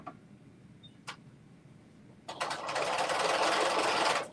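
A domestic sewing machine runs a steady regular straight stitch during a dress sew-along, starting after a couple of isolated clicks and then whirring continuously and fairly loud for about two seconds, close up with no talking.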